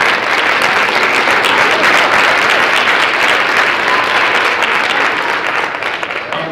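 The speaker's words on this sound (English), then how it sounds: "Can we give Choose to Change another round of applause?" Audience applause at a graduation ceremony, a full, loud round of clapping from a large crowd that holds steady for several seconds and then begins to taper off.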